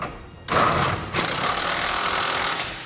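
A socket tool tightens 3/4-inch bolts with a 1 1/8 socket while installing a fifth wheel hitch on a 2008 Ford F-450, producing two loud, rapid, rattling bursts close by, the second running longer.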